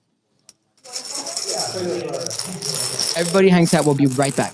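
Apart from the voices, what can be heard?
pre-1964 US junk silver coins dropping and rattling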